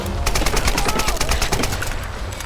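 A rapid automatic burst of gunfire in Tomb Raider, fast evenly spaced shots packed densely together, loud and near, continuous throughout.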